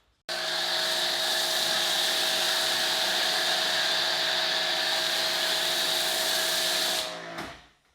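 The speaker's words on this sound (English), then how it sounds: "We have switched to the Amazon pressure washer, the Foting" A Foting pressure washer bought on Amazon runs with a foam cannon attached, giving a loud, steady whine that starts abruptly, holds for about seven seconds, then cuts off and winds down.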